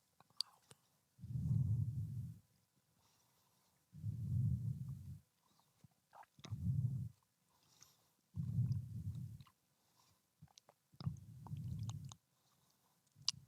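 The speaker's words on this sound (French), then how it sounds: "Si vous m'entendez mâcher, je mange une clémentine." Someone eats a clementine close to the mic, with five bursts of soft, wet chewing separated by quiet pauses and a few faint clicks between them.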